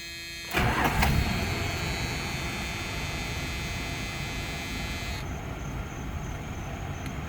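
A carbureted 3.9 engine in a 1987 Dodge Dakota SE cranks briefly and catches, then settles into a steady, fairly loud idle that runs on alone with no talk.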